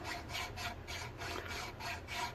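A file rasps across the wood of an ES-335-style guitar body during a kit build, in steady back-and-forth strokes of even rhythm, close and fairly quiet, with no talk.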